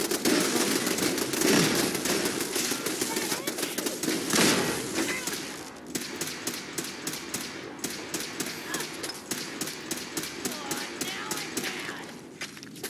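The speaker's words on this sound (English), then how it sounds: "You want to come out here and shoot these turrets too, Piper?" Rapid gunfire from shooting turrets in Fallout 4, a dense rattling stream of shots continuing throughout, with people talking over the barrage.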